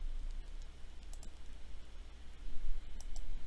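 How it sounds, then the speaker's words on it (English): Sparse, faint mouse clicks sound over a steady low hum, a handful of quick single and paired taps spaced irregularly while the Illustrator pen tool draws zigzag lines. "I'm just going to start clicking"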